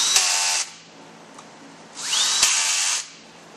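A power tool driving T27 bolts into a BMW ZF5HP24 transmission valve body, two loud close whirring bursts separated by a short quiet pause, each ending with a brief click.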